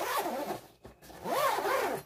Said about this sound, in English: So I'm just going to zip it up.